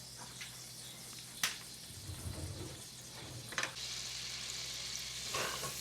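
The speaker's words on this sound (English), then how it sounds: "I'm going to mix that around, get all the brown bits off the bottom" A pan of butter and white wine sizzling softly while being stirred to lift browned bits from the bottom, a low steady hiss with occasional sharp scrapes and clinks of the utensil, fairly quiet and close.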